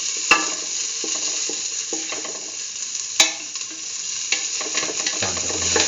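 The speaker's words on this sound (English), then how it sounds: "Put in the onion pieces." Onion pieces frying in a pan give off a steady bright sizzle, with a utensil scraping and knocking as they are stirred, a couple of sharper clacks standing out, close and without talk.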